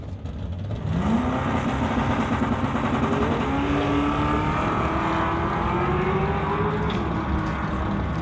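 A Mustang Fox body and a Volkswagen Golf launch in an NHRA Summit ET drag race, engines roaring loud and rising in pitch from about one second onward, revving steadily through gear changes with no talk.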